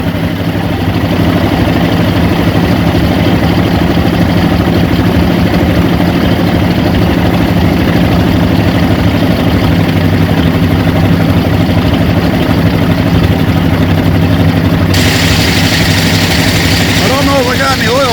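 Neglected 1950 Ford with a flathead V8 idling after being revived, a loud steady low rumble close by that continues unbroken, with a shift in hiss near the end.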